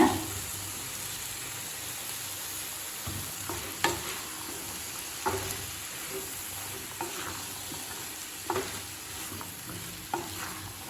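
Green peas and cauliflower fry in oil for a cauliflower kurma, a steady soft sizzle broken by repeated scraping stirs of a spoon against the pan, with no talking.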